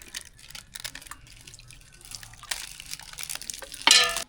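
Payasam sweet pudding is packed into parcels for a festival food offering, heard as soft liquid drips, sloshes and light handling clatter close by, building to a brief louder splash and rustle at the end.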